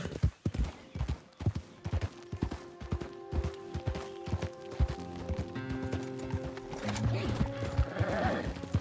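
A horse in the Red Dead Redemption 2 video game gallops with rapid, close hoof clip-clops, then gives a loud, drawn-out neigh near the end over steady game ambience.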